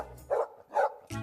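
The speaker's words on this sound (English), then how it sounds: "It's what a typical dog sounds like when it barks." A typical dog barks three times in quick succession, short mid-pitched woofs with brief gaps between them, fairly close and with no speech.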